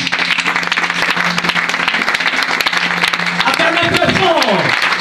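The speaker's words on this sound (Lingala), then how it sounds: "On va acclamer pour le Seigneur l'Église." A church congregation applauding, with dense continuous clapping throughout and voices calling out over it near the end.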